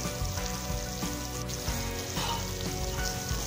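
Steady hissing sizzle of hot water poured into a hot pan for tom yam rice noodle soup, loud and continuous with a bubbling, rain-like texture and no voices.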